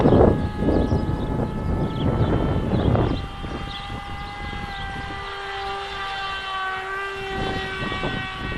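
The electric motor and propeller of an S800 Sky Shadow model aircraft whine at half throttle, a steady tonal hum with a rushing wind-like roar that is loud at first and then eases off.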